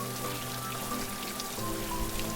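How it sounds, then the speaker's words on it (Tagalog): Heavy rain pours down in a steady, dense wash of noise with no pauses, close and continuous, with faint tonal sounds running underneath. "nagsimulang bumuhos ang malakas na ulan"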